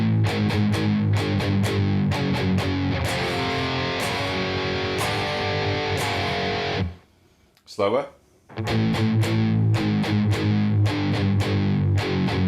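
A distorted electric guitar plays a song riff, strummed once per quarter note in loud, ringing chords, broken by a brief pause where a voice speaks.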